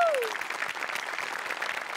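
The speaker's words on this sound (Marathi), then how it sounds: "मोठ्यांसाठी एकदा जोरदार टाळ्या" An audience at a Marathi comedy show breaks into dense applause, a steady wash of clapping that fades in right after a short tonal sound at the start.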